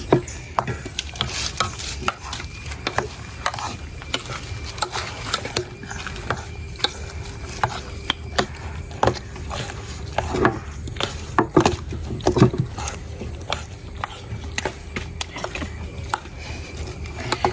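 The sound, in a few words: mixing masala for homemade shawarma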